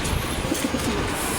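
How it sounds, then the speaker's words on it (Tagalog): Pigeons coo from a rooftop in a few soft, low, repeated calls over steady outdoor background noise, with no talking. "May kalapati oh."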